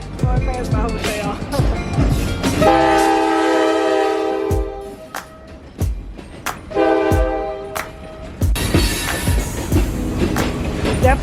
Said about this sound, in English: This is the first train that I've seen and heard since I've been here.